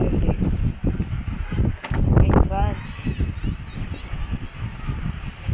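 Strong wind buffets the microphone in a village, loud gusty low rumbling with someone talking over it and faint birdsong in the background.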